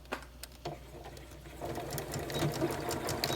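A sewing machine runs steadily while stitching a bandanna mask, a soft, close mechanical whir with light rhythmic ticking that grows slightly busier toward the end, with no voices.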